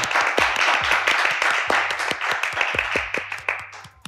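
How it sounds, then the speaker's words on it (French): A small audience claps to welcome Charlène at a fashion talk, with uneven, fairly close hand claps and a few distinct sharp claps standing out over about four seconds. "On peut l'applaudir, on peut l'applaudir."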